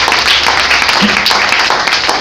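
Church congregation at a Sunday service applauding and cheering for Jesus, a dense continuous wash of clapping and voices filling the room.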